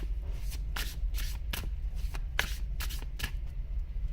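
Tarot cards being shuffled by hand close up, a quick series of crisp riffling flicks in uneven bursts over a low steady hum, with no talking.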